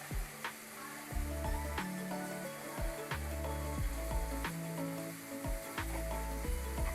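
Spiced Bombay duck fish with cumin and coriander sizzling in a pan, a steady close frying hiss broken by repeated scraping stirs of a spatula, with no talking.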